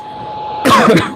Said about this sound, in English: Sorry, I have to cough in the mask here.